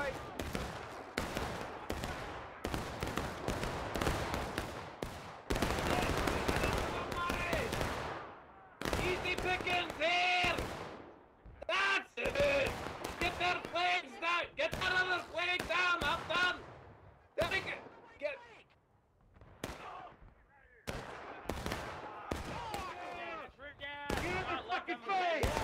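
Musket volleys and scattered rifle shots crack repeatedly across a battlefield in War of Rights, some near and loud, others farther off, in irregular clusters with brief lulls and a voice talking throughout.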